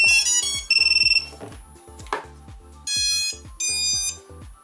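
An Eachine Wizard X220s drone sounds loud electronic buzzer tones on power-up: quick chirps and a rapid trill, then two sustained beeps over a low rhythmic pulsing motor tone, no talking.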